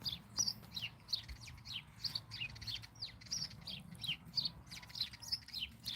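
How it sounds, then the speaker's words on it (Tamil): Two sparrows chirping rapidly and repeatedly in quick, agitated bursts while fighting in a garden in Switzerland, close by, over a low background rumble. "குருவிங்க ரெண்டு சண்டை பிடிச்சிட்டு இருக்கு"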